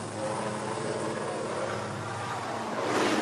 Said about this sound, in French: un hélicoptère emmène les souverains qui ont pris de retard sur l'horaire